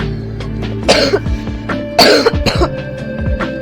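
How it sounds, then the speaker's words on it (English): A person coughs twice, with a harsh throat-clearing sound, close and loud against a quiet background hum. "Sorry, I've had this cough lately."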